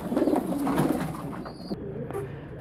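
Soft, low pigeon cooing rumbles close by amid rustling and shuffling noises, with a brief faint chirp near the end.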